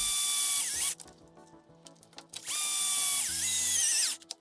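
A power drill drives screws into the suspension of a Kraton XL RC car in two whining bursts that rise in pitch as the screw seats, with a brief gap of small handling clicks between them.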